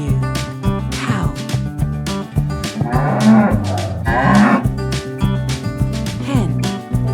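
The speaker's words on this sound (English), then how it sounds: "Cow. This is cow." A cow moos repeatedly, deep drawn-out lowing calls over a looping children's music backing, loud and near across the whole stretch.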